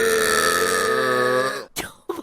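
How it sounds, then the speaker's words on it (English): A person lets out a long, loud, close burp with a sustained tone lasting about a second and a half, followed by a couple of brief rough vocal noises. "Burp."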